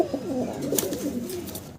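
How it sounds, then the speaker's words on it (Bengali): Tulip pigeons in almond and tiger colours coo in low, soft, rolling calls, close and steady throughout with no talk over them. "দর্শক দেখতেছেন ডিউলিপ কবুতর, জি ভাই, অ্যালমন্ড কালার এবং টাইগার কালার"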